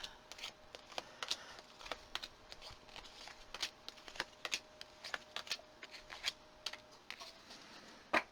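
Soft, irregular riffling and tapping of tarot cards being shuffled, quiet and close, with scattered sharper flicks and no voices.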